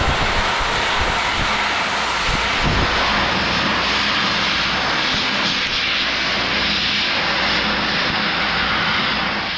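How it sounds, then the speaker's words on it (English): Bead blasting metal parts with tiny glass beads in a factory produces a loud, continuous hiss for the full length, unbroken and without speech. "we bombard the parts with tiny glass beads"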